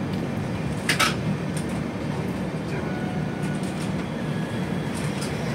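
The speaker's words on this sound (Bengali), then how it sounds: "ট্রেন নিউ বঙ্গাইগাঁও জংশন ছেড়ে সন্ধ্যে 6:37 তার পরবর্তী গন্তব্য কোকরাঝাড় রেলওয়ে স্টেশনের উদ্দেশ্যে রওনা হলো" Brahmaputra Mail passenger train rolling out of New Bongaigaon Junction toward Kokrajhar in the evening, a steady low rumble of wheels and carriage noise with brief metallic clanks, continuous and close.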